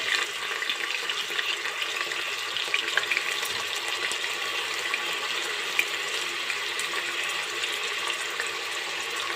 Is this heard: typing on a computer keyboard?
no